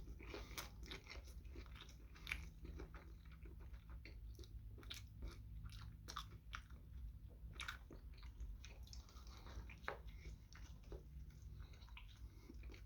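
Close-up chewing and crunching of a gyro eaten by hand, repeated wet bites and mastication in an irregular rhythm over a low steady background.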